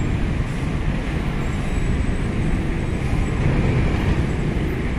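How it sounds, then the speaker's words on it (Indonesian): Steady, loud rumble of a convoy of buses rolling past at Bakauheni harbour in the late afternoon, continuous broadband road and engine noise with no pauses and no talk. "Wah, rombongan bus-bus ini ya."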